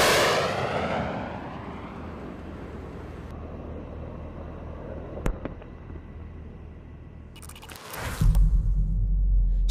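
A Stinger missile launches with a loud rushing roar that slowly fades. A sharp crack follows, then a heavy low boom near the end.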